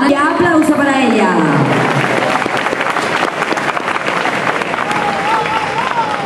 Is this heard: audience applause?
yes